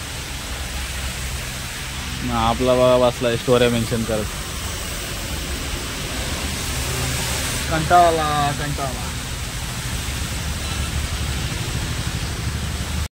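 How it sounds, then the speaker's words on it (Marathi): Rain falls steadily outside around Lonavala as a constant broad hiss, with someone talking over it in two short bursts. "पाऊस पडतोय बाहेर."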